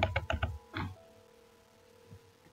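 Computer keyboard keys tapped in a quick burst of several clicks, then a single brief keypress after a quiet gap, close up with no talking.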